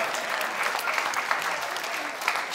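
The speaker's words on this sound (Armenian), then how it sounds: "այո, այո, ծափարենք, ինչու ոչ" An audience at a stand-up comedy show applauds, brisk steady clapping from a crowd at moderate volume throughout, with a few sharper claps standing out.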